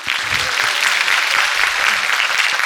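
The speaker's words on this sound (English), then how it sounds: "Yes, please clap." Loud, continuous clapping from an audience at a Srishti Talks stage event fills the whole stretch at a steady level.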